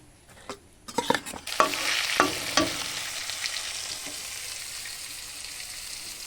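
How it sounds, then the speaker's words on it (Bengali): Rohu fish frying in hot oil, a steady close sizzle with sharp crackles and spatters that burst in during the first few seconds and then settle into a continuous hiss. "আর এখন আমি রুই মাছ ভাজা করব"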